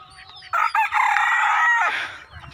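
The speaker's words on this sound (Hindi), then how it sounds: "खुले में घूमती हैं मुर्गियाँ" A rooster crows loudly and close by in open-air farmyard surroundings, one long call over about a second and a half, with scattered low clucks from free-ranging hens before and after.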